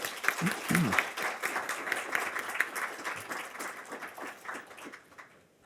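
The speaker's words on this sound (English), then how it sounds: "So a round of applause for the team." A crowd at a NASDAQ fireside chat event applauds the team with steady, full clapping that holds for several seconds and then tapers off near the end.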